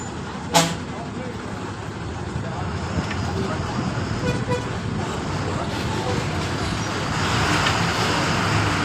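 Heavy road traffic surrounds a moving TNSTC bus, a dense, constant rumble of engines and tyres with a sharp horn toot near the start and a louder swell of passing vehicles toward the end.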